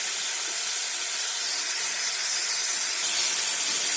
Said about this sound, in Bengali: এটাকে সামান্য একটু আমি ভাজা ভাজা করবো